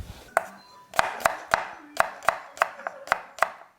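A knife slices thinly through leeks on a cutting board, about ten crisp, evenly spaced chops close up with quiet gaps between strokes.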